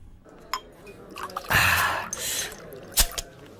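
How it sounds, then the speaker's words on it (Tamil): Liquor poured from a bottle into a glass for a drinking round, a gushing splash of about a second after a few small clinks and drips, with a brief sharp clink at the end. "எனக்கு ஒரு ரவுண்டு ஊத்துறா"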